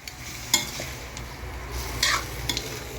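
Chicken sizzles steadily in a pan while a utensil scrapes and stirs, with a few sharp clinks against the metal.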